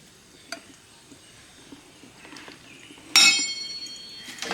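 Oil poured into a hot wok bursts into a sudden loud sizzle that fades gradually, after a few faint clinks and taps of cookware in a quiet kitchen.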